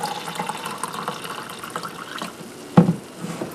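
Sweet tea is poured from a pitcher into a glass, a faint steady liquid trickle in a quiet kitchen, ending with a brief louder splash or clunk near the end.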